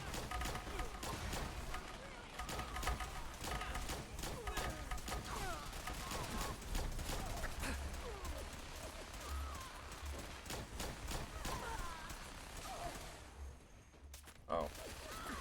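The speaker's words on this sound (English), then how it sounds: "That Spear's going ham with that minigun." Rapid, relentless minigun fire in Fallout 4 rattles on for the whole stretch as a dense mechanical stream, moderately distant, while a person talks over it.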